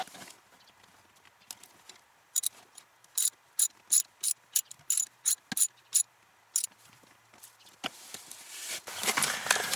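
A ratchet wrench clicks in rapid bursts as a fuse panel bolt on a Toyota 4Runner is loosened and tightened, crisp metallic ratcheting strokes close by, followed by a rougher rustling scrape at the end.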